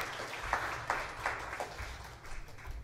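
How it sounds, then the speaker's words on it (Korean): A church congregation gives thankful applause after a men's mission group's special song, faint and somewhat distant, with scattered claps rising over a soft steady patter and no voices. "다시 한번 남전도의 귀한 특송에 우리 감사의 박수를 보내도록 하겠습니다."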